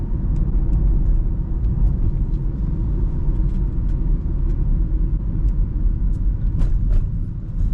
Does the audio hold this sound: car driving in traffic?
yes